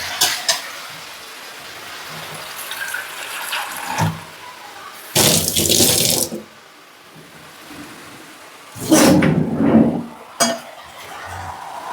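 A cup of water is poured into a cooking pot holding a soy sauce and gravy dish, in two short splashing bursts. Quieter stirring and clinking of pans sounds in between.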